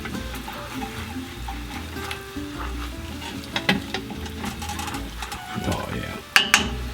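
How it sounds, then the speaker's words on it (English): Apple sizzles in a pan as it deglazes browned bits left from frying Kurobuta ham, with a steady close frying hiss, occasional stirring scrapes and utensil clinks throughout. "we're going to let this deglaze the pan"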